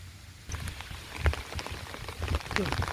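Steady rain patters on a flooded rice field in Muang Sam Sip with scattered drop hits, a continuous wet hiss in the wind under some faint background voices.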